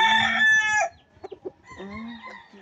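A rooster crows loudly and close, its call breaking off, followed by a few short clucks and then a softer second crow, alone without talk.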